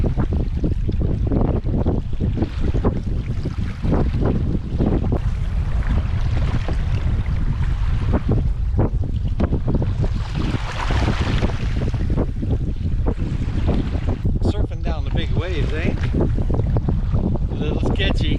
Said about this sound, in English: The wind is at our back, big time.